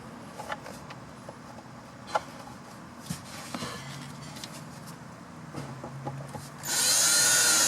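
A power driver sets T20 screws into a 1982-1992 Firebird Trans Am T-top, with scattered light clicks and handling knocks before a loud, steady high whine of the driver near the end.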